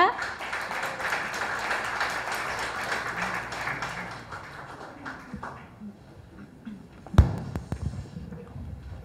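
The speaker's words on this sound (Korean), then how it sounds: "박수로 맞이하겠습니다" At a Korea–Kyrgyzstan exchange committee anniversary ceremony, an audience gives the next speaker, a county head, a loud, dense round of clapping that fades over several seconds, then a thump and quieter room sounds follow.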